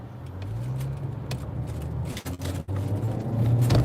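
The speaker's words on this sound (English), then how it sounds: "Gotta get across like 3 lanes of traffic." A car driving through heavy multi-lane traffic, with a steady engine drone and road rumble, a couple of brief dips, and the engine rising slightly at the end.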